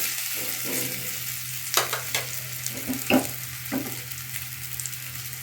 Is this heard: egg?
yes